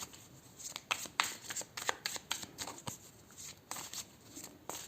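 Tarot cards shuffled by hand in a steady run of crisp riffling flicks and soft slaps, close and moderately quiet, with no talking.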